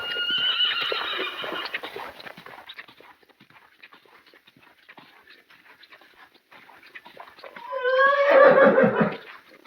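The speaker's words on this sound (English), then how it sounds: "it was downright heartbreaking hearing the horses call to each other as I took Hugo away" Horses call to each other: one whinnies loudly at the start, soft shuffling follows, then a second, nearer whinny rises near the end.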